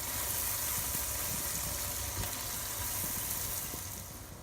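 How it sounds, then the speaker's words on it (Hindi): Cumin seeds and garlic paste frying in a pan, a steady dense sizzle with faint crackles that holds evenly and softens slightly near the end, no voices. "और क्यूमिन सीड, ये ज़ीरा है। इसको हम 3 से 4 मिनट फ्राई करेंगे।"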